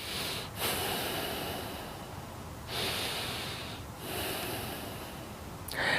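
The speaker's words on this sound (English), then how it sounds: "Breathe it in and out." Slow, deep breaths in and out during a yoga and Pilates stretch for back pain, close and audible as long airy inhales and exhales in steady cycles, with no talk.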